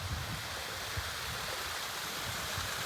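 A cold mountain stream on snowy Mount Mansfield in Vermont, carrying much diminished flow with ice along its edges, makes a soft, continuous broadband rush of water. The sound is steady and fairly faint.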